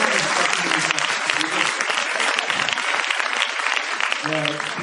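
Loud, dense audience applause at a meeting with the actors of Nous York fills the room steadily for about five seconds, with voices audible through it near the end.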